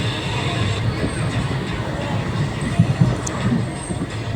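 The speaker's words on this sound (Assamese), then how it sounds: "তাৰপিছতে এইফালে ট্ৰেইন পালেহি" A train rumbles steadily close by, a low continuous roar with faint metallic squeals and scattered crowd noise mixed in.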